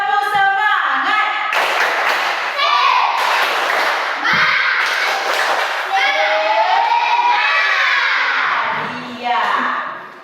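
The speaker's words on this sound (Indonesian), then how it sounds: "Tepuk semangat dulu. Tepuk semangat." A class of children performs a rhythmic spirit clap, with sharp hand claps in patterned bursts mixed with children chanting loudly together and a teacher's voice.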